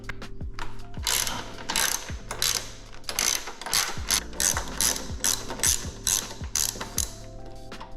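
A ratchet wrench clicks in quick, repeated strokes as bolts are backed out during a Ciro Cybercharger install, steady pawl chatter running through the clip at close range with no talk.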